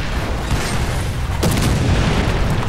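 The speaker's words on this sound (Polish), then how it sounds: "Ostrzo artyleryjski." Artillery fire lands in the War Thunder tank game, a single heavy boom that cuts in partway through and rolls on over a constant rumbling engine and battlefield background.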